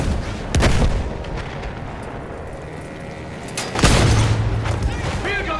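Field gun artillery in the World War I shooter Battlefield 1, two heavy booms about three seconds apart, each with a rumbling tail over a dense battlefield din of distant gunfire, with voices in the mix.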